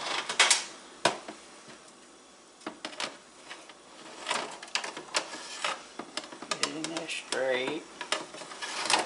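Pork chops and country ribs clatter onto metal air fryer racks in a kitchen, with a string of sharp clinks and knocks at an uneven rhythm, close and fairly loud, and brief talk near the end.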